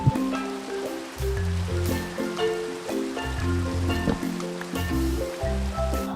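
Steady rain falls at night in a survival video game, a continuous wash of water over a small, cramped base. Soft game music plays underneath it with repeating low tones.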